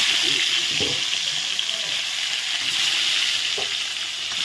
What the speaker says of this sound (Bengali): আলুগুলো একটু ভালো করে ভেজে নিচ্ছি